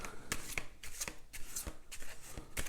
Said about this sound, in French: quand je mélange les cartes comme ça